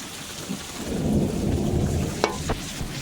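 Heavy rain pours steadily in Manchester, Kentucky, a dense, continuous hiss of drops on surfaces with a couple of sharper nearby splashes or knocks, and no one speaking.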